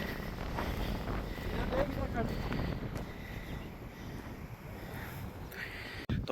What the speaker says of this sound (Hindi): हवा चलने लगी है यहाँ पे।